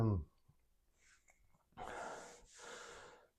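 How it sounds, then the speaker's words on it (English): Quiet, heavy breathing after a home biceps and triceps workout: a brief sound at the start, a soft pause, then two long, close, breathy exhales. "I hope that like when I'm breathing heavy, it's not like in the mic."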